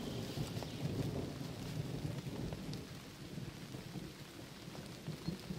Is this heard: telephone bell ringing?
no